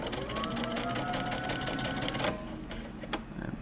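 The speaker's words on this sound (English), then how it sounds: "you take this over to the sewing machine and stitch it right across the top" A sewing machine stitching a pleat on a men's fitted shirt, a fast, steady mechanical whir close by that slows and stutters near the end with a backstitch.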